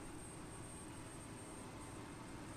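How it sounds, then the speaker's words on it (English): An aircraft engine starting up in MS Flight Sim, a steady, broad engine roar and whine that holds an even loudness throughout, with no talk. "I think you can hear the engine kind of starting up here"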